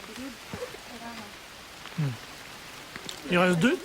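Rain hisses steadily in the background on a volcano in Vanuatu while people talk briefly nearby, one voice louder near the end.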